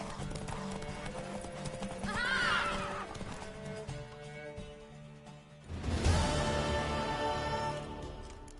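In The Witcher 3: Wild Hunt, rhythmic hoofbeats clip-clop along while a horse lets out two loud, drawn-out whinnies, with a faint game-like whoosh in the background.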